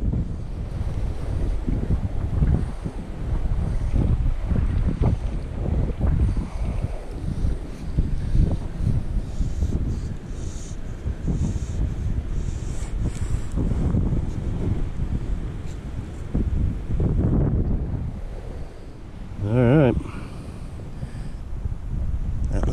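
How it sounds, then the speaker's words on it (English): Strong wind buffets the microphone outdoors during a backpacking fishing trip, a loud continuous roar with gusty swells and low rumble lasting throughout, nearly alone with no clear talk. "Wind."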